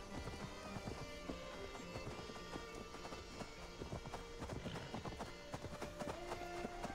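A horse gallops in Assassin's Creed Valhalla with steady, rapid hoofbeats heard continuously, moderately close, over ambient game sound without talk.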